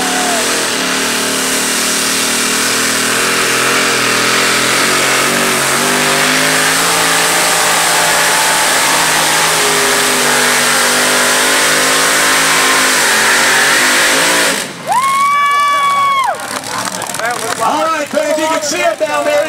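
A 1923 bucket drag truck with three motors roars loudly under strain while pulling a sled, a sustained engine drone building in pitch, then revving sharply near the end; a commentator speaks over the engine.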